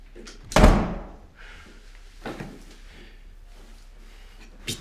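A door slams shut with a single loud, sharp bang near the start, followed by a few fainter knocks and bumps in a quiet room.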